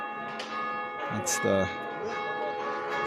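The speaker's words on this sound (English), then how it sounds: "Damn, those bells are crazy." Cathedral church bells ring out loudly in a steady, sustained metallic peal with overlapping tones, while someone speaks briefly over them.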